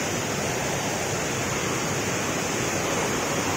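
Water rushes at the Panchalingeswar shrine in a steady, dense, unbroken flow, close and loud, with no voices over it.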